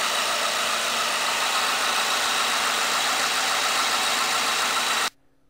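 A 2010 Ford Ranger with a 2.3 liter inline four-cylinder, 143 horsepower engine idling after a cold start, a steady loud hum with a rough, buzzy edge, heard close until it cuts off abruptly near the end.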